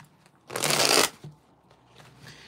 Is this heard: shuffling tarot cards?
yes